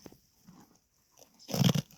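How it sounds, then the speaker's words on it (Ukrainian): A horse bites into and crunches a pumpkin outdoors: a few soft, scattered crunches give way to a louder, close burst of chewing near the end. "їсть гарбузу зараз хрумкає прям так"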